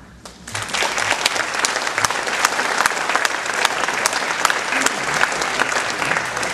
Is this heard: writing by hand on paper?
no